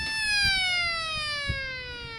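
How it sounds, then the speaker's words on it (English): A siren on a ranch feed truck calls cattle with a steady wail that slowly falls in pitch, fairly loud and close, while faint low thumps sit beneath it. "the ranch team is able to move their cattle with just a feed truck and a siren"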